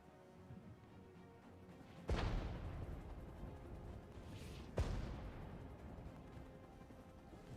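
Distant artillery in the WWIII real-time strategy game Regiments: two heavy booms about three seconds apart, each with a long rumbling decay over a low battlefield background.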